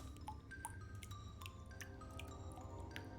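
Water being collected in a jar in the Wytchwood video game, heard as a quiet, steady scatter of light drips and small liquid plinks over a low watery background, with no voices.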